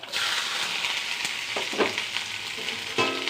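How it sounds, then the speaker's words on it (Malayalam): Onion, coconut, turmeric, chilli and garlic sauté in a pan for a jackfruit seed and drumstick thoran, giving a dense, even sizzle with a few scraping stirs, close and without speech. "കുറച്ച് സവാള എരിഞ്ഞത് എല്ലാം കൂടി നമുക്കൊന്ന് വഴറ്റിയെടുക്കാം"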